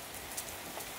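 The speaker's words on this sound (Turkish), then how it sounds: "Yağmur başladı. Bakın şöyle." Steady rain falls on surfaces outdoors at a bus stop, a dense, even hiss of drops with no voices over it.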